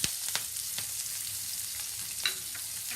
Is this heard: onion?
yes